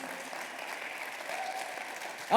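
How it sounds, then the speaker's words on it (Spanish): A church congregation gives a steady round of applause, a soft even patter of many hands filling the room, with a voice breaking in at the end. "¿qué tal si damos un fuerte aplauso a ellos?"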